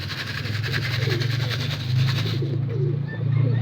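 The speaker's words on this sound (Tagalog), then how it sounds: "Pasok. Kakain na kayo. Yan mga kalapatids." Pigeons coo steadily at close range during feeding time, low repeated coos over a faint engine hum in the background.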